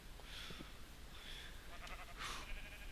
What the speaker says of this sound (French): que des moutons.